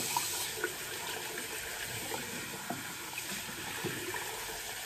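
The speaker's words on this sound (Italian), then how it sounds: "Allora, una sciacquatina e siamo a posto." Running water splashes steadily from a tap as a shaving brush is rinsed beneath it, a close, even gush broken by occasional soft splashes.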